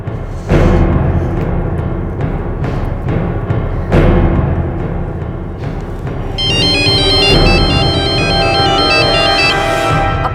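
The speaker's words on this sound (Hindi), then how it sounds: "मुझे किस लिए फोन कर रहे हो आबिद?" In a TV crime drama scene, a loud, busy music bed plays, then a high, repeating electronic phone ringtone melody starts partway through and rings steadily on top of it.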